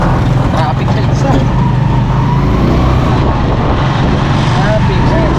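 Busy street traffic in the Philippines, a loud, dense rumble of passing cars and engines with a steady low drone throughout, heavy and close.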